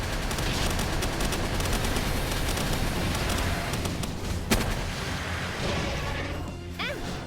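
Sustained barrage of gunfire in the Palworld video game, a dense continuous roar of shots and crashing impacts with a sharp burst near the end, loud and steady throughout with no talk.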